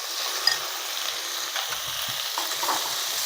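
Chopped carrots and potatoes go into a hot frying pan of oil for a Bengali carrot curry, giving a soft, steady sizzle with a few faint clinks and stirring scrapes, close and fairly quiet.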